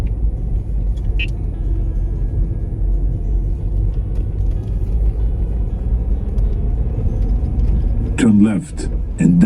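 A 1983 Datsun 280ZX Turbo rolls along the road with a steady, loud engine and tire rumble throughout, steady and close, and a brief rising whine near the end.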